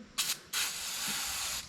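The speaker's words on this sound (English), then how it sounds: "we're going to spray everything down with some brake cleaner" Brake cleaner sprays onto a Shimano bicycle brake after a bleed, a short hissing burst followed by a longer continuous aerosol hiss, close and fairly loud, with no talk.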